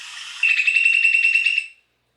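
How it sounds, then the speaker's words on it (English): Ready-made chirping-bird sound effect from the CapCut editing app: a clean, bright run of rapid, rhythmic tweets lasting about a second and a half, loud and close, then cutting off sharply to silence. "Chirping birds, wings."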